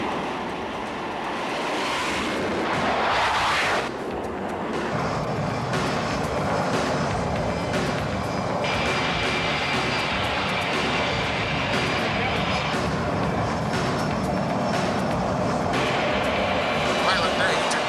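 A small airplane's engine drones steadily in flight, a broad continuous roar that holds for the whole stretch with little change in level, while a voice talks over it.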